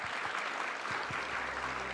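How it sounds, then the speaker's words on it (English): Steady applause from a conference audience for the panelists at the Thailand Security Dialogue 2024, a dense, even wash of many hands clapping throughout, with a low hum rising near the end. "just give the panelists a big round of applause"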